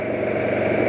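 Motorcycle engine running steadily and loud with the throttle opened at certain RPMs, a dense continuous drone held throughout the short stretch with no talk.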